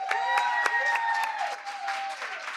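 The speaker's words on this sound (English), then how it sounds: "Please join us in a round of applause for Sonia." An audience at a district attorney forum summit applauds, with scattered claps over a sustained tonal musical sound that gradually fades.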